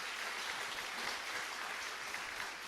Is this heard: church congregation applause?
yes